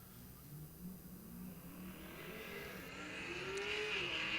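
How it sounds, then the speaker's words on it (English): A loud drag racing car with full exhaust roars and builds at a bracket race, its exhaust note rising in pitch as it accelerates away. "Boy, Alex has a loud car. That's full exhaust, too."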